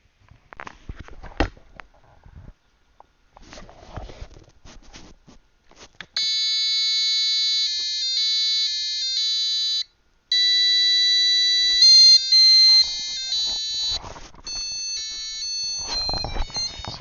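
An Arduino piezo buzzer beeps out a tune in shrill, pure electronic tones, note after note with brief gaps. Quiet rustling and handling noises come before it and return near the end.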